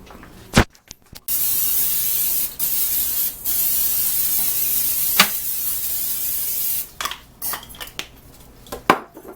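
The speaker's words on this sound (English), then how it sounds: "I spray my pan anyway." A steady hiss of cooking spray released in long bursts, with brief clinks of a pan and utensils before and after.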